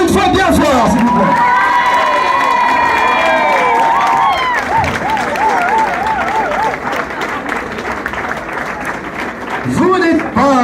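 Loud audience applause and cheering fill a show venue, with children's shouts and whoops mixed in; a voice rises over the crowd briefly, and clapping continues steadily throughout the roughly ten seconds.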